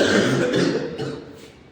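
A short burst of a sick child's coughing, a few rough hacks close up outside a clinic, fading out within a couple of seconds.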